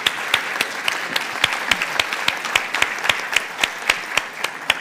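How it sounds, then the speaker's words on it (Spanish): An audience at a national public budget seminar breaks into steady, sustained applause, many hands clapping densely and evenly for the whole stretch with no voices on top. "La vamos a recibir con un fuerte aplauso"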